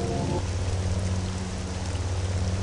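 Steady acid rain pouring in the Star Wars Jedi Academy game on Vjun, a dense continuous hiss with a low drone underneath, briefly overlaid by a tonal sound at the start.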